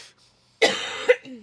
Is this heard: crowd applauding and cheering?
no